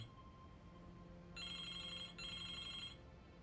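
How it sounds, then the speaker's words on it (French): A telephone rings in two bursts, each about three-quarters of a second long with a short gap between them, clear and fairly near over a quiet room background. "Veuillez m'excuser, le téléphone."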